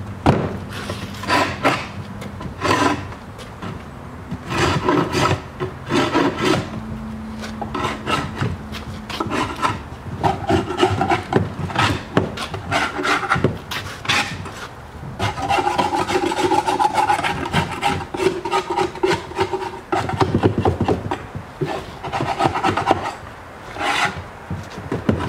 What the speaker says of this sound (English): So we'll scrape along this area here, right in there, and we'll scrape along there, and then down all down the sides